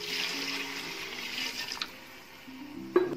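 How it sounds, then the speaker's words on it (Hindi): Two glasses of water poured into a cooking pot of fried mutton and turnips for Kashmiri saffron shab daig, a steady broad rushing pour running most of the clip, ending with a short splash. "अब दो गिलास पानी के डालें"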